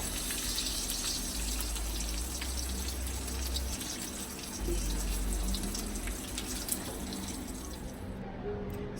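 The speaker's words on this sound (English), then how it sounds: "The potatoes are ready. I'm going to drain those." Boiled potatoes being drained, with a steady, continuous rush of hot water pouring out close by and no talking.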